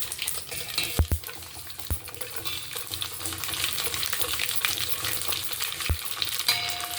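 Amaranth leaves, onions, curry leaves and green chillies fry in hot tempering oil, giving a steady close sizzle with a few sharp clicks of a utensil against the pan.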